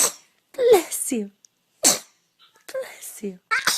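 A baby gives several sharp, close sneezes separated by short pauses, with small coughing or throat noises in between.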